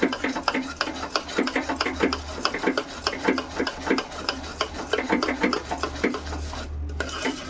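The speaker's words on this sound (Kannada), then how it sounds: "ನೋಡಿ ಈ ಥರ ಮಿಕ್ಸ್ ಮಾಡ್ಕೊಳ್ಳಿ" Semolina mixture for Uttar Karnataka ravi undi is stirred in a pan, making a rapid, rhythmic gritty scraping and rasping that stays close and steady throughout.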